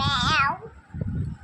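A child imitates a cat's meow with a single drawn-out, wavering vocal meow, close and fairly loud, followed by a brief pause and low background chatter.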